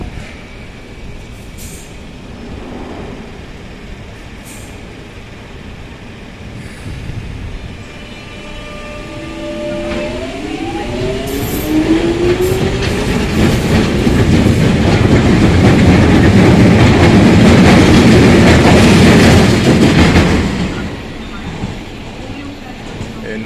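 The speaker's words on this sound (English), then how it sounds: "And above me is the DLR to Beckton." A DLR train passes overhead at Canning Town station, building from a quiet background to a loud rumbling roar with a rising whine, then fading; a person talks faintly during the first part.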